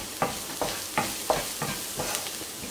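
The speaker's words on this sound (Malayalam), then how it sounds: "ഇതിൻ്റെ രണ്ടിൻ്റെ റോ ടേസ്റ്റ് ഒന്ന് മാറി വരുന്നത് വരെ നമ്മൾ ലോ ഫ്ലെയിമിൽ വെച്ചൊന്ന് ഇളക്കി കൊടുക്കുക" Half a teaspoon of chili flakes is stirred in a pan on a low flame for veg spring roll filling, giving about seven rhythmic scraping strokes over a soft, steady sizzle, no voices.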